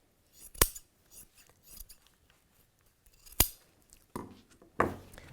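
Scissors cut through a T-shirt for a quilt, giving a few crisp, close snips with pauses between them in a quiet room.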